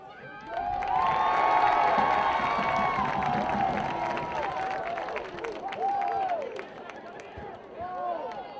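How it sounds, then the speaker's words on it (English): Spectators at a college soccer match between Michigan-Dearborn and Taylor applaud and cheer for a very young fan's chant, a swelling burst of claps and shouts that fades back, with voices in the crowd. "they got a rousing round of applause from the college kids"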